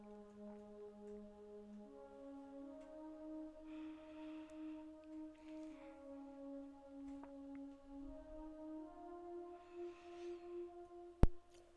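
Xenology Soft Pad 9 synth pad holds soft, sustained tones that shift slowly in pitch, with airy swells layered on top, ending in a short sharp click.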